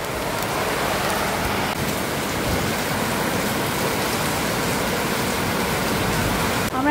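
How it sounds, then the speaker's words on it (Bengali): Heavy rain pouring at the Howrah Utsav fair, a dense continuous hiss of downpour on surfaces, steady and close, with no clear speech. "তোমাদের এক ঝলক বৃষ্টিটা দেখাচ্ছি যে আমি কী জোরে বৃষ্টিটা শুরু হয়েছে"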